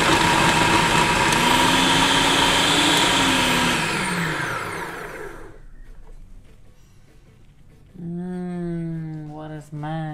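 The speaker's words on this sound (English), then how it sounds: "Then we finely grate it using the food processor." A food processor grating onions for a Bolognese sauce roars loudly and steadily at first, then winds down and stops, and a voice is heard talking afterward.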